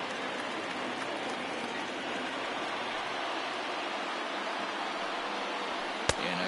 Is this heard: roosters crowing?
no